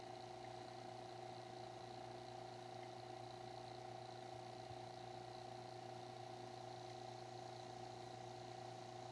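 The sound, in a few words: vacuum pump pulling vacuum on mini split heat pump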